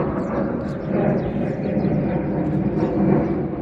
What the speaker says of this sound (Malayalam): വിമാനമാണ് പോകുന്നത്.